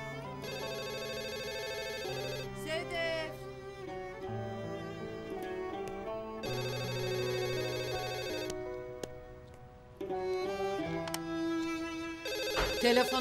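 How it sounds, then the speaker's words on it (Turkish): A telephone rings repeatedly in a Turkish TV drama household scene, its ringing bursts recurring over roughly thirteen seconds amid steady background music. "Telefona bak."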